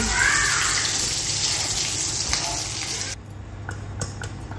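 Vada pav pieces frying in a pan of hot oil give a dense, continuous sizzle and bubbling hiss. It drops noticeably after about three seconds, leaving quieter crackles and a few taps.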